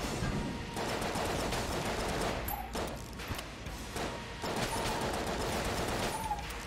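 Rapid automatic gunfire from the Betrayer gun in Enter the Gungeon rattles in dense bursts with short gaps, loud and close, mixed with game impact noises.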